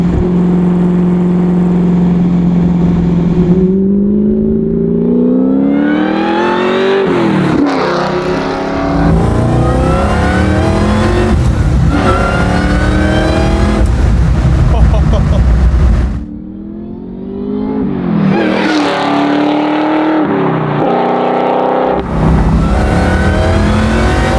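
A supercharged Chevy Camaro pro-touring build revs and accelerates hard, its loud engine note climbing through several gear pulls with brief dips between, close and dominant throughout.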